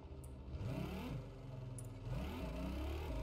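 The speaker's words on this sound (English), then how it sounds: "Nice aggressive little engine there. I like it. Sounds really nice." A small player-built amphibious vehicle in a video game revs its aggressive little engine, a steady close-up buzzing drone that rises and falls in pitch with the throttle, with no talk over it.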